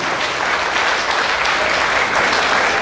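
Audience applauding at an award ceremony, dense sustained clapping from many hands, loud and even throughout with no talk over it.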